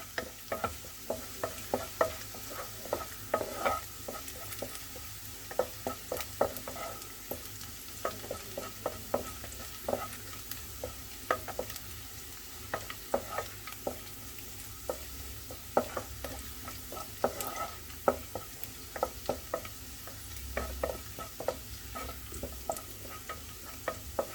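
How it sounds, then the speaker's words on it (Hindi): Garlic sautés in a pan, a steady low sizzle under repeated scraping and clinking of a spoon stirring it, close and continuous without speech. "हमें गार्लिक को तब तक भूनना है जब तक इसका जो कच्चापन है वो पूरी तरह से ना निकल जाए।"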